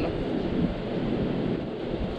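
Steady, strong wind roaring outdoors by a river, with a constant low rumble and hiss and no voices.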